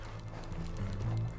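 Horse hooves in the Red Dead Online video game, a quick rhythmic clip-clop of galloping with low thudding steps, fairly close and alone.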